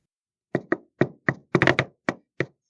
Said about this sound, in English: you're going to give away Ash Borer's secret knock